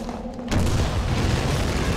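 Rocket explosion in the World War II shooter Hidden & Dangerous 2, one sudden heavy boom that cuts in and rolls on as a loud, sustained rumble.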